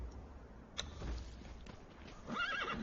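A horse in the video game Conan Exiles gives a clear whinny amid soft hoof clip-clops, fairly quiet and heard alone without talk.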